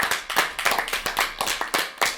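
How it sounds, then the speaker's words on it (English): A small group of players at a game session claps in a quick, even rhythm. The crisp, close hand claps repeat about every quarter second, with no talk over them. "Let's give some applause to number 6."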